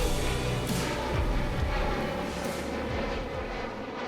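A fixed-wing airplane departing an Israeli airport gives a steady, loud, broadband engine roar that holds evenly throughout and fades slightly toward the end.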